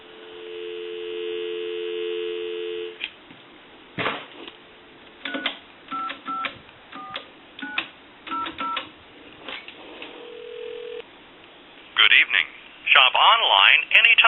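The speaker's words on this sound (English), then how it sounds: "We'll give you some dial tone." A payphone line during a single-slot payphone conversion repair: a steady dial tone hums at first, then a sequence of short dialing beeps, clicks and tones, ending in louder bursts of a phone line connecting.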